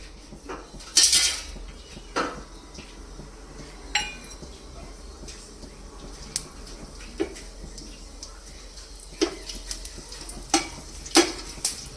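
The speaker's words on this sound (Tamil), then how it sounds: "சோம்பு, சீரகம், லவங்க, இலை எல்லாம் போட்டிருக்கு" Fennel, cumin, clove and bay leaf fry in reused oil for coconut milk rice: a faint background sizzle under sharp, irregular clinks and scrapes of a spoon against the pan, mostly sparse single knocks.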